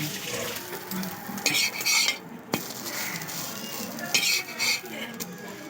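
Egg-dipped bread toast fries in oil in a pan, giving a steady close sizzle broken by a few brighter scrapes and clinks of a utensil against the pan.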